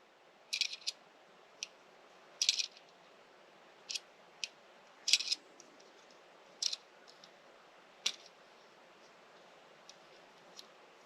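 Leatherman Surge multi-tool scissors opened and handled, giving a series of sharp, close mechanical clicks and ticks spaced irregularly across a quiet background, with faint handling rustle between them.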